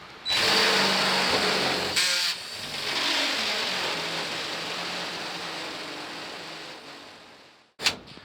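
Power drill boring a hole in a Masterbuilt digital charcoal smoker, a close whirring run of several seconds with a brief dip, then a sharp burst near the end.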